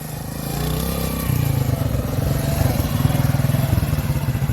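A motorcycle engine drones steadily and close up throughout the ride on the rider's own bike, with a low rumbling hum that thickens slightly partway through, carrying on without any talk.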